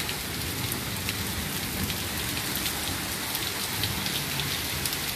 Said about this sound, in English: it's some heavy rain today.